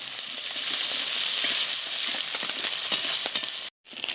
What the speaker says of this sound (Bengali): বেশ সুন্দর করে পেঁয়াজটা ভেজে নিয়েছি